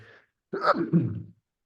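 A single close sneeze bursts out loudly and breaks off within about a second, following a brief faint murmur in an otherwise quiet room.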